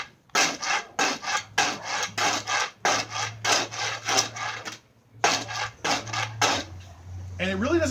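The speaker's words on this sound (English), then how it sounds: "you hold it at 45 degrees to pretty much any sidewalk or other concrete you've got, and scrape while you turn." The end of an SCA sword scraped at an angle against a concrete sidewalk while being turned, making loud, gritty rasping strokes in a steady rhythm of short bursts with brief gaps between them, close up.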